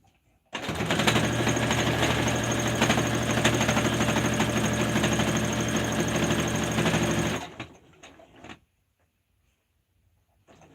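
Sewing machine stitching a blanket, a loud, close, steady mechanical hum with fast needle clatter running for about seven seconds before winding down and stopping into near silence.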